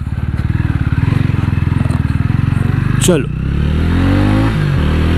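TVS Ronin 225cc motorcycle revving and accelerating close up, a steady pulsing engine note that climbs in pitch, with a rider speaking briefly over it.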